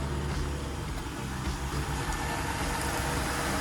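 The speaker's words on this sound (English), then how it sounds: "That is a happy, well-running engine." A 3.9-litre Range Rover engine idles steadily and smoothly nearby, a constant even rumble with no talking.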